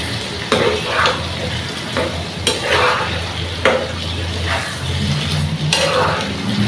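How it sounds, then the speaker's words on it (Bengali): Dried fish fried and stirred in a pan, a continuous sizzle broken by repeated scraping strokes of a spatula at an irregular rhythm, close and fairly loud. "তো এটাকে আমি ভাজা ভাজা করে নিব।"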